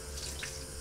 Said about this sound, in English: let's go to the sink. Okay, here we are. So what I'm gonna do is I'm gonna try to make my water a little warm